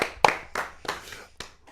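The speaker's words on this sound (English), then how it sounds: "Terence Michael, round of applause for this motherfucker right here in the graduate" A small studio audience claps for a podcast guest in four short separated bursts, each a sharp cluster of hand claps that quickly fades, close and moderately loud with no talking.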